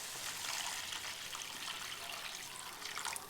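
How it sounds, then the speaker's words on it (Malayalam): Hot water is poured into a king fish curry in a pan, a soft continuous trickling splash, faint and close, with no voices. "ഈ സമയത്ത് നമുക്ക് ചൂടുവെള്ളം, ഒരിക്കലും പച്ചവെള്ളം ഒഴിക്കരുത്, ചൂടുവെള്ളം ആവശ്യത്തിന് ഒഴിച്ചു കൊടുക്കുക."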